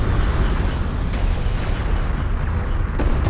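Strike craft blown apart in the real-time strategy game Homeworld: Deserts of Kharak, a loud, dense rumbling explosion filling the whole stretch with steady low roar and no voice over it.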